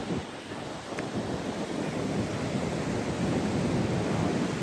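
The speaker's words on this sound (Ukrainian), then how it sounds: "Тут зараз дуже великі хвилі." Steady roaring surf and gusting wind fill the air, a dense continuous rush with no voices.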